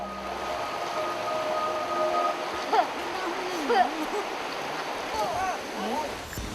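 Someone wading and splashing in a river beside a pushed bamboo raft makes light water sloshing and splashes, mostly beneath a narrator's voice.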